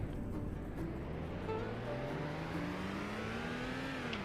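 A base-model Hyundai Accent accelerating in the Roblox game Greenville, its engine tone climbing steadily in pitch as it gains speed, a smooth continuous drone.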